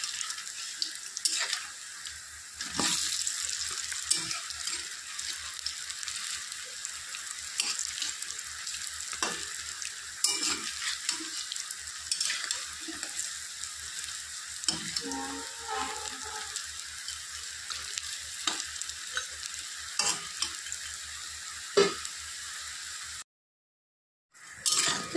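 Banana flower fritters fry in oil in a pan, a steady soft sizzle broken by occasional clinks and scrapes of a utensil as pieces are turned, close and alone.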